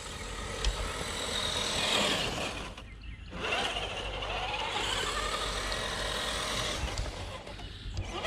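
A Traxxas TRX-6 Ultimate RC hauler runs at full throttle in high gear on a crawler course, its motor giving a steady buzzing whine that briefly cuts out before surging back at fairly close range.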